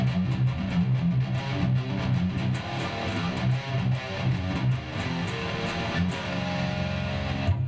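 Percussive guitar riff recorded in a studio, with steady rhythmic string slaps and muted strums repeating in a tight, busy pattern at moderate loudness.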